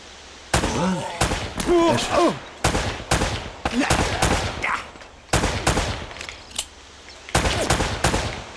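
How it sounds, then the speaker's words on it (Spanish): Bursts of gunfire in Uncharted: Drake's Fortune Remastered on PS4, several quick volleys of rapid shots separated by short pauses, loud and close. "Puedo intentar liarme a tiros por aquí"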